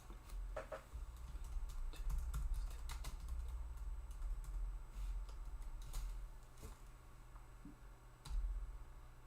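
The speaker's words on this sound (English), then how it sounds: "Here, I'm going to type it." Rapid, irregular keystrokes on a computer keyboard during a live stream, a steady run of close clicks and taps over a low background hum with no voices.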